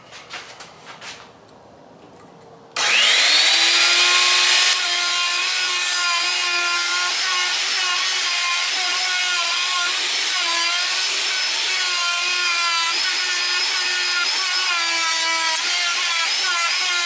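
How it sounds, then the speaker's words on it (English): A router bit grinds out a wooden guitar body following a template, its loud, steady high-pitched whine starting abruptly after a few quiet seconds of handling, then holding with slight pitch wavers as it cuts. "So let's grind that out as much as we can with this bit."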